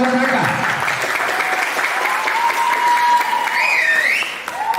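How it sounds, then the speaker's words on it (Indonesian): Audience applause at a village performance of traditional tabuh tegak music and pencak silat in Nagasepaha, Bali: steady, dense crowd clapping lasting throughout, with some voices and a whistle-like tone mixed in near the end. "Tepuk tangan buat mereka."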